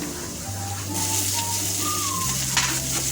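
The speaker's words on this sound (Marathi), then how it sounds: "लसूण आणि मिरची जे आपण कापून ठेवलेलं आहे ते परतून घ्यायचे आहे" Garlic and green chillies sauté in hot oil with cumin and mustard seeds for a ridge gourd chutney, a steady hissing sizzle that swells after the first second, with faint whistling tones running underneath.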